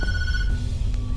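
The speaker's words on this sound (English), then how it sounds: "No, don't answer the phone, bro." A telephone in a video game rings with a bright electronic trill, brief and steady over a low rumbling background.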